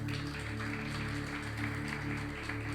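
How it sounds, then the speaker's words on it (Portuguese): A church congregation claps together in a steady, moderately loud wash of applause, with sustained keyboard-like tones humming beneath it throughout. "dá uma salva de palmas"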